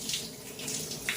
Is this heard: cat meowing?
no